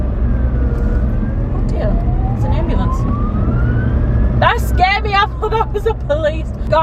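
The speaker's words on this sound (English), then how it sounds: "Oh dear, it's an ambulance." An ambulance siren on a road, heard from inside a car: a rising wail grows through the first seconds, then gives way to rapid yelping bursts near the end while a driver talks over it.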